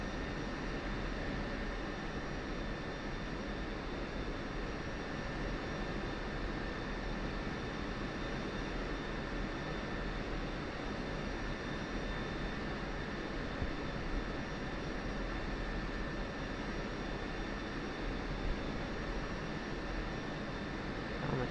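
Jet aircraft engine in the DCS flight simulator, an F-16 on a Syria map, droning steadily as it taxis onto the runway, a constant broadband roar with a faint high whine and no talk.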